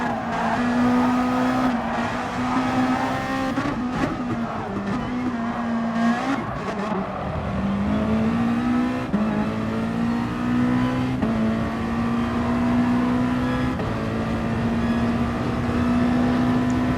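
A Gr2 race car in GT Sport screams around Fuji Speedway, its engine droning loud and constant with repeated rises as it revs through gears, brief dips at shifts and a faint tire squeal as the car slides loose.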